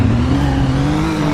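Car engine in the video game Greenville holding a steady, loud revving drone with a slowly rising pitch, alone without speech.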